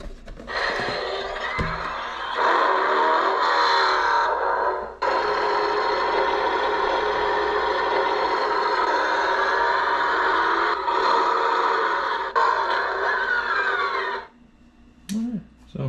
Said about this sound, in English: you can actually hear it go from electric to combustion engine